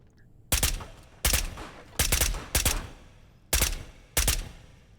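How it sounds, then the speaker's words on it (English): Silenced weapon fire in the video game Ghosts of Tabor: six sharp, loud shots in an irregular rhythm, each a short suppressed crack with a brief tail, standing alone with no talking. "Ooh, that's a silenced weapon."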